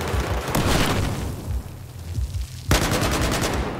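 Loud, close gunfire in the video game Battlefield 4: rapid automatic bursts crackle through the first half, ease off briefly, then a fresh burst starts abruptly near the end.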